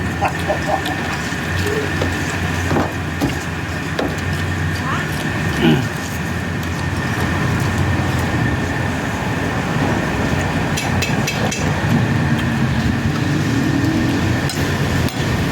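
A train rumbles past nearby with a loud, continuous roar and faint rattling, while people talk over it throughout.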